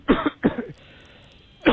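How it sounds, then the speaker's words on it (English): A man coughs over a played robocall phone recording, two quick harsh coughs followed after a pause by another, thin and band-limited like a telephone line. "He's coughing the whole time."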